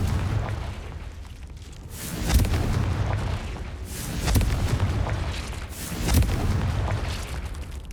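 Three booming explosions from the Confringo spell in the Hogwarts Legacy video game land at regular intervals over a steady low rumble of game ambience, each one a heavy, fairly loud thud.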